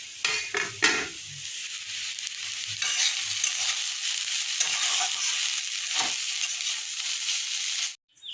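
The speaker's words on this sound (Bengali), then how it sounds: "আর এই যে আলু ভাজা করছি" Potatoes fry in a pan, with a few metallic clinks and scrapes of utensils at the start, then a steady soft hiss of frying that runs close and quiet until it cuts off at the end.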